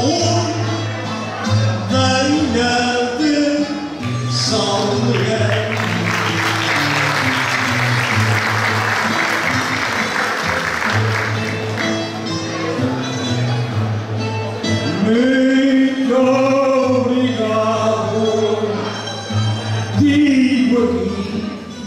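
An audience at a tribute event in the Salão de São Bento claps during music with voices, and the applause rises into a dense wash through the middle before fading back beneath the sustained tones.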